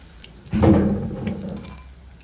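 Coriander leaves dipped in gram flour batter and squeezed by hand give a single soft, wet squish that swells quickly and fades over a second or two, close by, with no talking.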